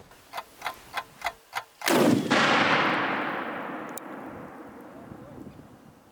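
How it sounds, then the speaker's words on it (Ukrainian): Several short ticks, then a single loud, close RGD grenade blast outdoors that tails off into a long fading rumble. The blast is a test of concealed body armor on a mannequin. "Зараз підриваємо, дивимось на результат"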